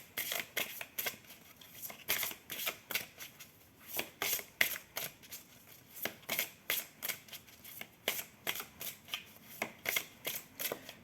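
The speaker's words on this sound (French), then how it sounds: "Je vais étaler les cartes et je vais prendre celle-là." Oracle cards are shuffled in quick rhythmic bursts of crisp riffling, close and fairly clear, repeating about once a second with a few brief pauses between.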